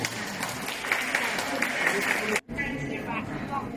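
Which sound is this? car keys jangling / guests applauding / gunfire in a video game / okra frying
guests applauding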